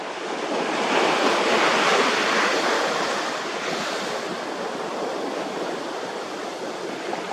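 Ocean waves wash steadily onto a beach in a continuous broad roar with some wind, swelling slightly early on and then easing, with no voices.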